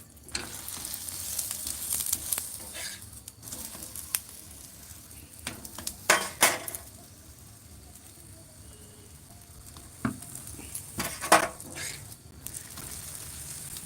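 Paratha frying in a pan, a continuous close sizzle with intermittent sharp crackles and a few louder bursts of spatter partway through.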